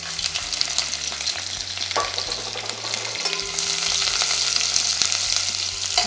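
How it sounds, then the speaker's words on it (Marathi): Sliced onion sautés in hot oil with browned garlic for dhaba-style whole masoor, giving a steady, close, loud sizzle with occasional stirring scrapes and no talking. "हा छान कांदा छान तांबूस रंगावर परतून घेणार आहे आपण."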